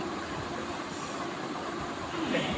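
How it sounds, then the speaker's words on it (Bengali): A train pulling into a junction station rumbles steadily throughout, heard from inside the carriage as a continuous loud wheel-and-track roar with no voices. "এবার হচ্ছে আমাদের ট্রেন নদিয়াটির দিকে ঢুকছে"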